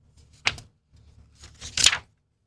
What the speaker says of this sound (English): This is the sound of me flipping through all this paper.